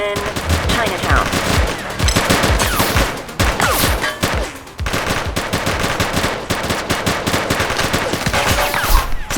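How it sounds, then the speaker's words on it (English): A gang shootout in the police game The Precinct: dense, continuous machine-gun and rifle fire, loud and close, rattling nonstop for the whole stretch with only faint voices underneath. "Central, shots fired. Possible gang shootout."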